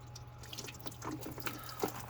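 Faint water trickles and splashes in soft, irregular bursts from a bottle being poured over a Tesla's front end, over a low constant hum, with no talking.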